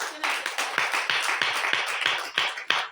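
A church congregation claps together in a steady, even rhythm of sharp hand claps, about four per second, with no voices over it.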